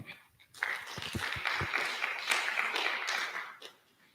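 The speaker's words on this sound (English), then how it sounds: "So a round of applause for AFIC." An audience at a Right To Know Day gathering bursts into applause for AFIC, a steady patter of many hands that swells in and fades out after about three seconds.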